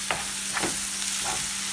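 A baila fish masala with tomatoes fries in a pan, a steady close sizzle broken by a few soft scraping stirs.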